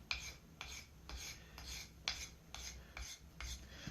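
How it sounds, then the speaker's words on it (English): A hand file rasps across a soapstone pipe in about eight evenly spaced strokes, each a short gritty scrape heard close and alone. "if you see a line, erase it with your file"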